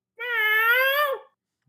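A person imitates a cat, letting out one long, drawn-out meow with a clear wavering pitch that rises slightly and drops off at the end, loud and close.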